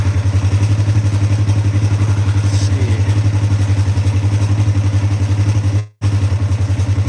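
Polaris RZR XP1000 side-by-side engine idling steadily during warm-up, a loud, even low throb with light clatter that runs nearly unbroken, with a brief dropout near the end.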